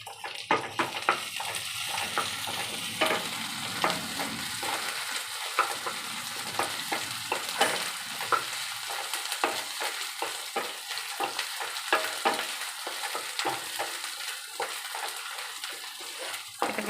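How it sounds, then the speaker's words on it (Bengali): Onions sizzle and fry in a pan for a Bengali-style dal fry, a steady loud crackle with occasional stirring scrapes and no talking. "এটা ভালো করে পেঁয়াজটা লাল হয়ে ফ্রাই হবে"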